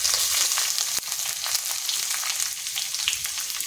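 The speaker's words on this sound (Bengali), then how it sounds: "দিচ্ছি একটা ছোট সাইজের পেঁয়াজ," Chopped small onion frying in hot oil with black cumin and bay leaf, a steady, loud, continuous sizzle with crackling spits throughout and one sharp tick near the start, no voices.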